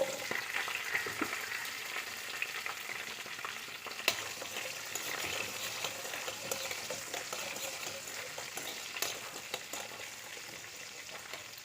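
Whole spices and small onions frying in hot oil for a paneer masala, a dense, continuous crackling sizzle close up, with occasional faint clicks.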